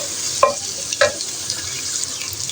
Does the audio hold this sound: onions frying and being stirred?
yes